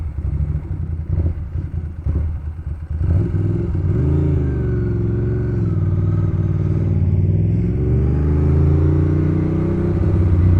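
Ducati Monster S4 motorcycle engine rumbling steadily while being ridden, a loud close drone that rises and falls with throttle changes under wind noise.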